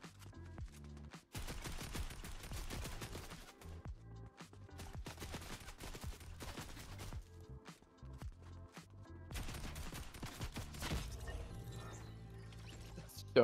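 Rapid bursts of gunfire in Fortnite, during a prison escape room map: dense automatic fire and clustered shots repeating for over ten seconds, loud and close, with occasional mechanical clatter between volleys.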